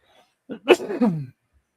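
A single sharp sneeze-like burst from one person, close and fairly loud, rising quickly and trailing off within about a second in an otherwise quiet room.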